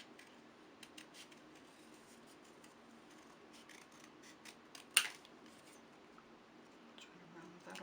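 Scissors snip through paper to cut out a bookmark shape, a series of soft, close snips and crisp cuts with one sharper louder snip partway through, quiet room otherwise.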